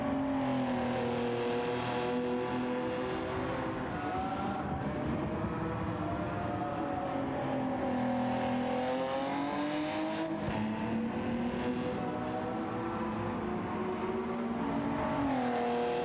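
A Puma GTO race car engine in Gran Turismo 7 drones steadily and loudly throughout, its pitch rising and dipping as it pulls out of corners and accelerates, with no talk.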